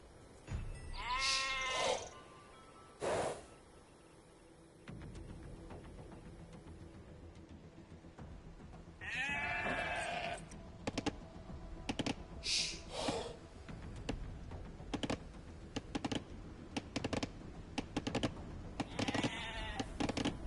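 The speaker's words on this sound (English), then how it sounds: "Now select the sheep by holding the right directional button, and then move them to the town center." Sheep bleat in the Age of Empires video game, with several wavering bleats coming in separate bursts over quiet game ambience and some clicks, and no talk.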